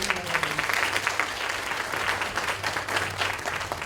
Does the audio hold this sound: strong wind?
no